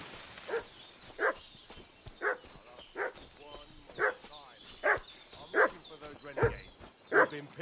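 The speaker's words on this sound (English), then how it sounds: "What's that dog making such a fuss about?" A dog in Kingdom Come: Deliverance II barks over and over in an even rhythm, about ten loud, close woofs spaced under a second apart, with low ambient sound between them.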